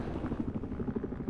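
Helicopter in the video game Battlefield, a steady low rotor thrum with rhythmic chopping pulses, fairly close and continuous throughout.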